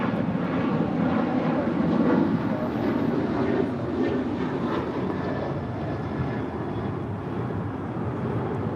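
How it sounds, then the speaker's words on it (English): A United Airlines Boeing 737-900ER departs LAX bound for Denver, its jet engines a loud, steady roar that holds near constant throughout with a slight swell early on. "1821 departing to Denver, Colorado on a 737-900ER."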